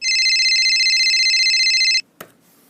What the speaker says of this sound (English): Let's just get on with the phone call.